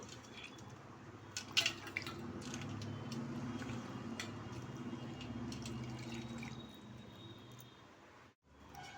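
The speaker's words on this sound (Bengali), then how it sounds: "এখন ভালোভাবে একটু জলের সাথে তেঁতুলটা আমি গুলে নেব।" Tamarind is worked by hand in a bowl of water, making soft, wet squishing and dripping close up, with a few brief splashes early and a quiet break near the end.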